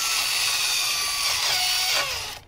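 A power drill bores out a hole in steel, slightly enlarging it to take a rivet nut; a steady, loud, high whine runs continuously before tapering off at the end.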